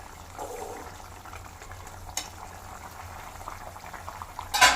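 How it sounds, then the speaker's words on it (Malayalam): Water for a spicy chicken curry rolls at a boil in a pot, a steady close bubbling churn that runs throughout, ending in a brief louder clatter. "അപ്പം നല്ലപോലെ തിളച്ചിട്ടുണ്ട്"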